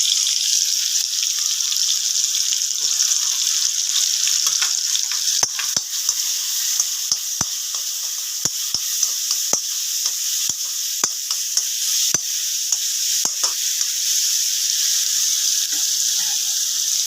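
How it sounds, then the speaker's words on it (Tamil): Mango and banana pieces sautéing in ghee for mukkani payasam, a loud continuous hiss of frying with many small sharp pops and crackles scattered throughout and no speech. "நெய்யில் ஒரு 2 நிமிஷம் பழங்கள்லாம் வதங்க விட்டு"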